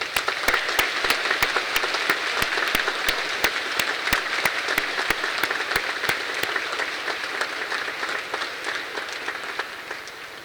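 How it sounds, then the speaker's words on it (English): A graduation ceremony crowd gives sustained applause, with many hands clapping densely and a few sharp, regularly spaced claps standing out in front. The applause slowly fades over about ten seconds. "Let's give a round of applause to everyone."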